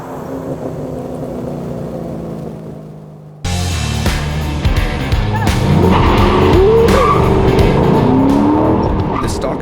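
Ford Mustang GT S197 with a louder aftermarket exhaust, its engine note rising loud and close with revving, a brief quieter idle first, then rough throttle and some tire noise.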